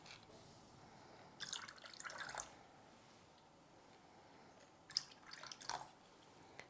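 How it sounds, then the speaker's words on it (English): Water poured onto a freshly repotted hoya plant, two short splashing pours separated by quiet, the second broken into brief drips and trickles, close and fairly soft. "But that's a bit too much water."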